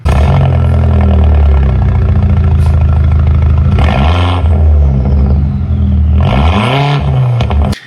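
Audi A4 1.8 turbo with a muffler delete revving hard, loud raspy engine droning steadily with two sharp rising blips of throttle near the end, close to the microphone.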